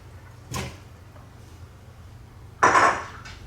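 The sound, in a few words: pre-diced potatoes being added to a pot of fish soup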